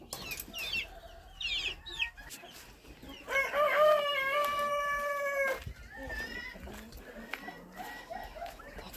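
Hens in a farmyard cluck and squawk, with one drawn-out crowing call in the middle, close and fairly quiet, while a person talks intermittently nearby.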